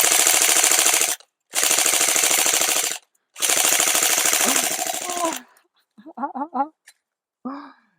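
Game Face Insurgent AK-47 electric airsoft gun fired from the hip in three rapid full-auto bursts with short gaps, close and loud, followed by someone speaking.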